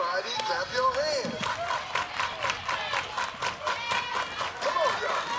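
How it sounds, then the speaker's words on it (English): Softball stadium crowd at a Washington vs Michigan women's college game clapping in a steady rhythm, a broad wash of fans with scattered shouts and whistles layered over the beat. "Everybody clap your hands."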